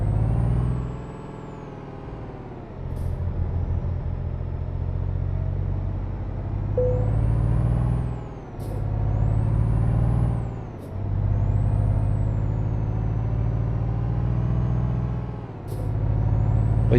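Air brakes on a truck in Euro Truck Simulator 2 hiss out in several sharp bursts over a steady low diesel drone, each release a short broadband whoosh that briefly cuts the engine rumble.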